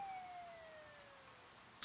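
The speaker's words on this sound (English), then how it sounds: "You hear sirens nearby." Police siren from the Persona 4 Golden video game, a single falling wail sweeping steadily downward, faint and alone, ending in a brief high click.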